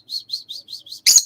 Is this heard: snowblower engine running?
no